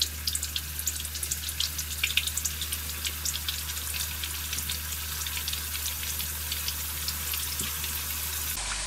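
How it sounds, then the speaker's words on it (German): Meatballs frying in a pan give a steady, close sizzle with bright crackling spatters throughout, and no one speaks. "Schön durchbraten."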